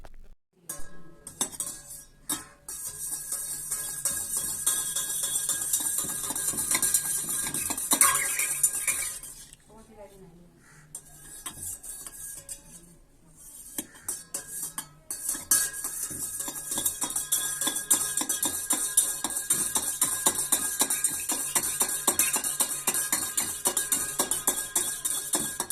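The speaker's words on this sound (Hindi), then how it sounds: "अब हम इसको चलाते हैं यानी हिलाते हैं" A spoon stirs a lemon juice and sugar mixture in a glass, giving a steady run of close clinks and scrapes against the glass, with a short pause partway through and a voice talking over it.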